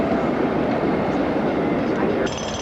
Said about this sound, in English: Just watch out for the tram, the electric